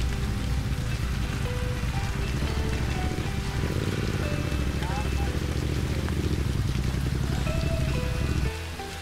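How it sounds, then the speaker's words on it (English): Dense, steady roar of heavy rain pouring down in the mountains, with tonal sounds and possible voices mixed in, continuous until it drops off near the end. "It was raining so heavily in mountains"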